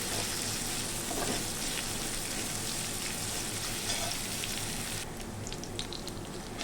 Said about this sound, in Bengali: পেঁয়াজটা দেখুন আমার লাল লাল করে ভাজা হয়ে গেছে